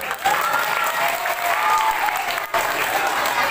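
Crowd applause at a Maulid Nabi Muhammad celebration at Perguruan Istiqomah Sunggal, dense continuous clapping from many hands with a brief dip partway through before resuming at full strength.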